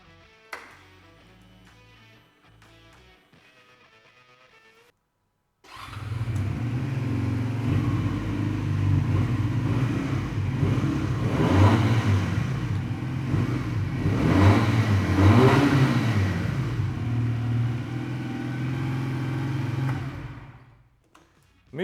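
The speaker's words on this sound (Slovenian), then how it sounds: "Zdaj pa, da ga še malo slišite, kako prede dvovaljni motor." A Leonart Daytona 125 two-cylinder motorcycle engine idles with a throaty rumble, then revs up and down a few times before settling and cutting off.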